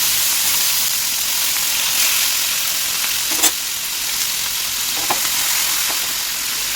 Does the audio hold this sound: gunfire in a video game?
no